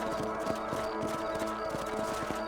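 A horse gallops in the Red Dead Redemption video game, its hooves striking in a quick, regular clip-clop rhythm, moderately quiet under a steady background.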